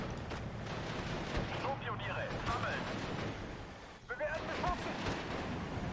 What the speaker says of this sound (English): Oh wow, that artillery just hit my Fusiliers as they came in.